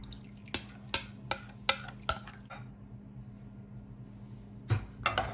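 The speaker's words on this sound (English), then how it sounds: "I am going to go ahead and add in my coconut milk." Coconut milk goes into a pot of Jamaican rice and peas: a string of light clinks and taps of a can or utensil against the pot, then a soft pause and a few more clinks, faint and close.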